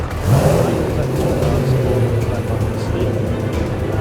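A powerful engine catches and roars, revving loudly up close with a deep, rumbling growl that holds steady throughout.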